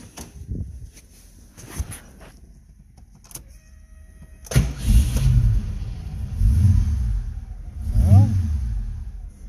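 A car with an old ignition coil cranks with a few short bursts, then catches at once. It settles into a loud, rough, rumbling idle with uneven revving, and one brief spoken word comes early on.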